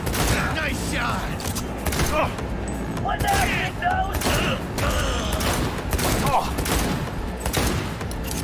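Rapid gunfire from the video game Cyberpunk 2077 rattles in quick repeated bursts, loud and continuous throughout, mixed with mechanical clanks and a voice talking over it.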